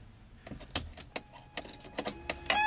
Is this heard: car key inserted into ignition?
yes